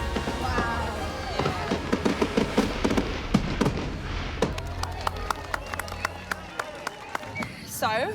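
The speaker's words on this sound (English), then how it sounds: "I love fireworks." A free public fireworks display outdoors bursts and crackles in a dense run of sharp bangs and pops, loud and near, with a crowd and voices reacting beneath.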